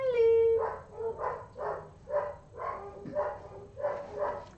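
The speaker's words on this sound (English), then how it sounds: "And Dexter just barks because she's barking" A pet dog barks in a home, joining in with another dog's barking: a run of about seven steady, fairly loud barks in a regular rhythm, preceded by a brief whine, with no talk over them.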